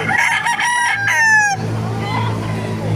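A rooster at a poultry market in Baliuag gives one loud, close crow with a rising then falling call, followed by low clucking and background murmur.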